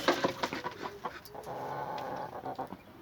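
Roosters and hens in a backyard coop housing five birds, three of them roosters, cluck and call in a busy, continuous chatter close by, with brief sharper squawks standing out.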